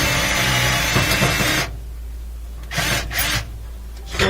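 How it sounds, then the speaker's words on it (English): Phillips head screws being worked out with an angle tool on an LG range, a loud continuous grinding whir that stops, then a few short bursts of tool noise against a steady low hum. "we're going to take out 2 Phillips head screws located right here"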